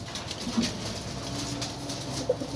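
Pigeons kept in a cage coo softly a couple of times against a steady low background hum, with faint pattering movement in between.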